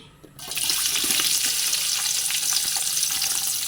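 Chopped onions sizzle and fry in Gold Winner oil for a wedding-style biryani, a steady loud crackling hiss that starts abruptly and holds with little stirring clatter underneath.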